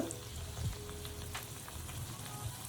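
Appalam bajji frying in oil, a steady low sizzle and crackle that holds on without pause and stays soft in the background, with no voices over it.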